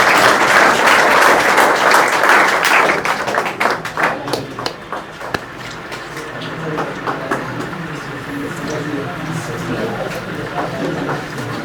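An audience claps loudly at the inauguration of a coaching centre branch, a dense burst of applause that thins and fades after a few seconds into scattered claps and ambient crowd noise.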